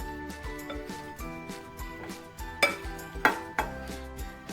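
Eggplant pieces are tossed with corn starch in a bowl, giving soft scraping stirs and several sharp utensil clinks against the dish, close and clear with no talking.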